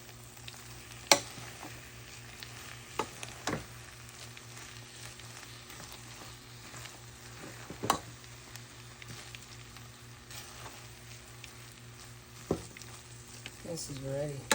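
Spinach and split peas kitcherie being stirred in a pot: a soft, low bubbling sizzle with occasional scraping clicks of the spoon, fairly quiet, with faint voice in the background.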